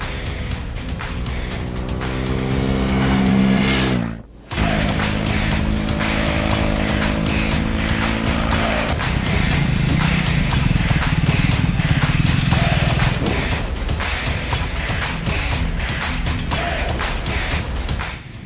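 A Triumph Speed 400 motorcycle engine hums steadily and close while riding over bumps, with a brief dip near the start, then continuous rumbling and road noise throughout.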